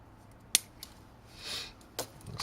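Cutters snip electrical wire for a cat toy tower: two sharp, close clicks a second and a half apart in a quiet room, with a faint rustle between them.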